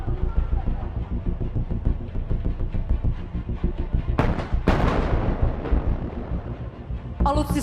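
Two CAESAR 155 mm howitzers fire at a military anniversary display by a harbor pier, with sharp heavy blasts near the 4.2 and 4.7 second marks and another at the end, rising over continuous announcer talk and crowd noise.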